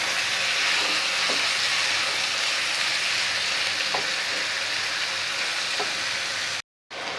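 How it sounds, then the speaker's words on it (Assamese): Broiler chicken pieces coated in spices fry in a pan with a steady, close hiss and faint crackles that run without a break until a short gap near the end. "এতিয়া এইখিনি মই এনেকৈ অলপ সময় ভাজি ল'ম।"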